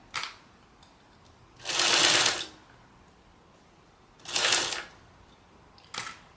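A sewing machine stitches a fringe purse in three separate bursts, a loud close buzzing whir followed by two shorter runs, with quiet pauses between them.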